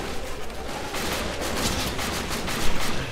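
Rapid gunfire from various guns in Borderlands 2, dense bursts of automatic shots crackling continuously and loudly at close range, with a heavier blast near the end.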